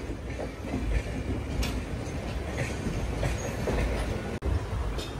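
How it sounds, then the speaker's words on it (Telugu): Janmabhoomi Express, running Lingampalli to Visakhapatnam, rumbles steadily past at close range, with continuous wheel and car noise and a brief dip near the end. "అటు సైడ్ నుంచి బండి అయితే వెళ్ళిపోతుంది"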